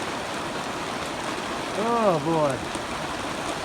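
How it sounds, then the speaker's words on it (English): Heavy rain falls steadily at night in a constant broadband wash, while someone speaks briefly partway through. "it's raining hard now"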